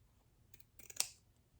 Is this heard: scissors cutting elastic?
yes